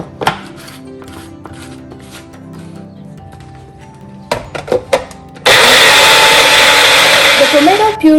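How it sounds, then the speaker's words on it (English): A kitchen blender purees tomatoes for South Indian rasam, starting after a stretch of quieter clinks and knocks and then running loud and steady for the final few seconds. "In the same blender, I'm going to make the tomato puree."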